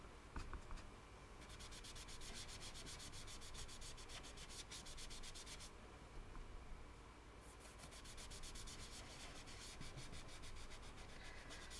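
Steady close-up rubbing and burnishing of ink into card stock to blend a sky, a continuous dry scrubbing texture with rhythmic strokes, fairly quiet and uninterrupted, with no voices.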